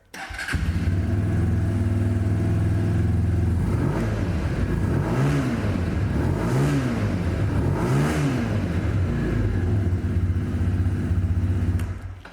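A Lexmoto LXR 125 SE sports motorcycle, 125cc, started on its side stand, catches and idles with a steady low burble, then gets three quick rising-and-falling revs before settling back to idle, loud and close.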